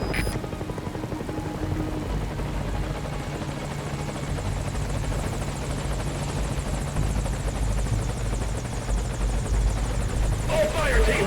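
A helicopter in the video game Metal Gear Solid V: Ground Zeroes gives a loud, continuous rotor thrum that fills the whole stretch, with in-game voices underneath.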